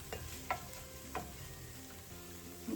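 Garlic cooking in a hot pan for chicken gnocchi soup, a faint low sizzle with a few sharp scrapes and clinks of a spoon stirring against the pan.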